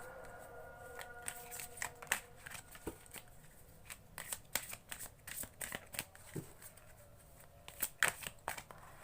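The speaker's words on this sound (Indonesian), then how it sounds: "kita shuffle kartunya sesuai dengan judul deskripsi ya" A deck of tarot-style cards is shuffled quietly, giving soft riffling and papery slaps in irregular bursts with no talking.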